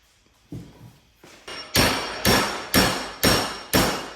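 Hammer blows ring on metal held in a vice, starting with a few lighter taps and building into a steady series of loud, evenly spaced clangs.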